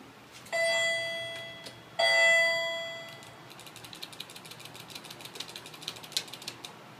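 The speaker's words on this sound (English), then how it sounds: "Kone modernized this US elevator" A modernized Kone hydraulic elevator in a US village building, with two sustained chiming tones followed by a run of quick mechanical ticks and clicks at close range, no talking.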